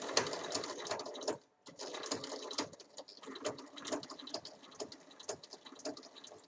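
Domestic sewing machine stitching across the folded ends of a zipper on an everyday bag, a steady rapid mechanical patter with a brief pause partway through, close and fairly quiet.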